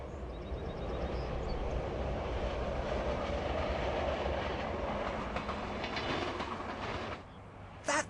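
An OC Transpo O-Train runs along the rails with a steady, loud rolling rumble and faint clicking, the noise dropping off sharply near the end.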